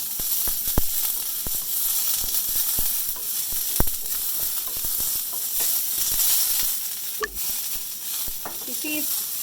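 Ingredients sauté in a pan over a medium gas flame, giving an even close sizzle broken by sharp taps and scrapes from stirring, with a brief clatter near the end.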